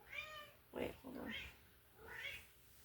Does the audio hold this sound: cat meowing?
yes